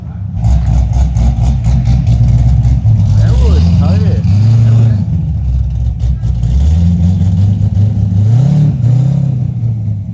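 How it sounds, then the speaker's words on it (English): A Corvette Z06 C6 engine runs with a deep, steady rumble, its pitch rising and falling as it idles and briefly revs, loud and close throughout. "I already hear the car idling."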